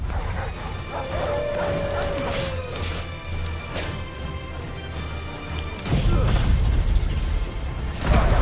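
Dogs barking in the Final Fantasy 16 video game world, several yips and barks scattered through a busy game soundscape with a crash and thuds near the end, under faint talk.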